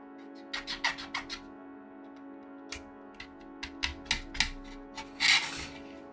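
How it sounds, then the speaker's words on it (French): A cotton swab rubs over a 1/35 scale Focke-Wulf FW190 A6 model, giving a string of short, soft scratchy strokes in quick bursts, then a longer rub near the end, close and quiet against a steady low hum. "je prends une petite brosse là, enfin le petit coton là, mes petits bâtonnets de coton."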